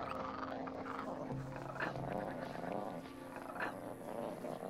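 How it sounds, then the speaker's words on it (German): A creature growls low and steadily in the fantasy role-playing game Gothic II, a rumbling, purr-like snarl that persists over game ambience with brief louder swells. "Ich höre was knurren."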